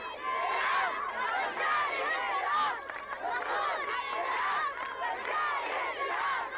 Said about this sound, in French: la population, alignée le long de la route, acclame les visiteurs